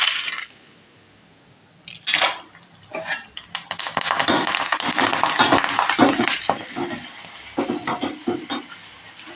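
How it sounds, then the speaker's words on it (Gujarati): Dried gunda fruit slices frying in hot oil, a dense near crackle and sizzle that starts abruptly after a short quiet and keeps popping and spitting unevenly to the end. "તો હવે કાચરીને આપણે તળી લેશું"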